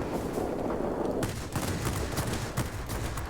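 Rapid 37mm cannon shots from a fighter plane in World of Warplanes fire in quick bursts over a dense, loud wash of game noise, close and continuous.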